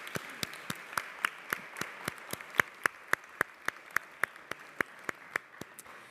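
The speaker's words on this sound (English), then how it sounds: "Let's give them all a round of applause for them." Applause at a New York City Council meeting comes as an even, regular run of distinct claps, sparse and fairly close, with no talking over it.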